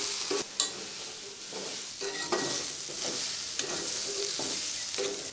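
Vegetables sautéing in a small amount of oil in a pan, giving a steady close sizzle with repeated scraping stirs at regular intervals and no talk.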